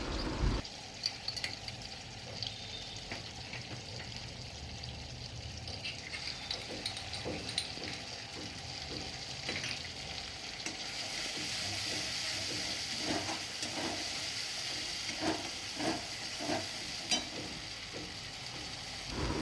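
Chopped tomato with a paste of two kinds of mustard and poppy seed frying in oil for a fish curry, with a steady soft sizzle and irregular scraping stirs throughout.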